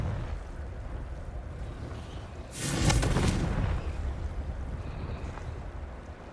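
A Confringo spell blast in Hogwarts Legacy erupts as a loud, broad whoosh-boom at about two and a half seconds, rumbling and fading over a second or so above a steady low game-ambience bed.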